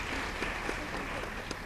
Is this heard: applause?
yes